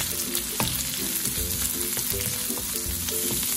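Onions sizzle with browned pork in a pan for pancit, a loud, busy crackle broken by sharp scraping and clinking as spoons stir and toss, with no talk.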